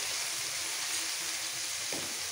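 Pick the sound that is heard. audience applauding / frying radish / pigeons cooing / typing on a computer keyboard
frying radish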